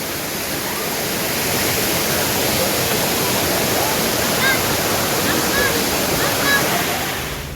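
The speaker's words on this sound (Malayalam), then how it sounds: "വട്ടായി വാട്ടർഫാൾസ് ആൾക്കാർ വന്നുകൊണ്ടിരിക്കുന്നു തിരക്കായി കൊണ്ടിരിക്കുന്നു" Vattai waterfalls, a dense, steady roar of falling water filling the whole clip, loud and broad with no breaks, heard from close by.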